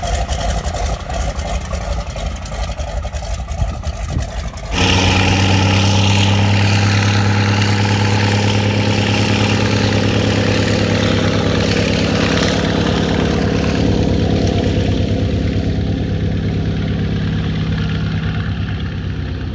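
A floatplane's propeller engine idles, then abruptly roars up to full power and holds a loud, steady drone as it takes off from water in Gates of the Arctic, slowly fading at the end.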